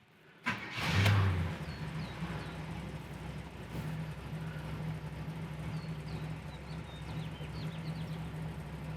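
A 1969 Camaro RS/SS Indy 500 Pace Car cranks and fires up with a sharp burst, then settles into a steady low idle and a rumble as it pulls away, heard from close by.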